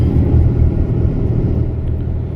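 A Mercedes truck engine labours uphill in power mode, a loud, close, steady low rumble with a deep droning drive tone and no voices.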